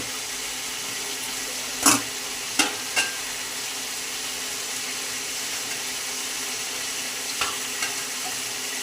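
Rui fish curry being sautéed in a pan, a steady broadband sizzle with a few sharp scrapes and stirring knocks near the start and a couple more later, close and alone with no talk.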